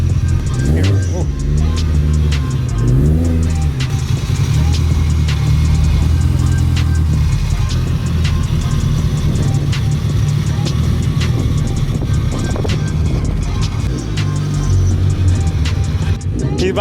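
A Mitsubishi Lancer EVO sits on its two-step launch control inside a warehouse, giving loud, close, repeated revving bursts and crackles before the launch, with people talking over the engine.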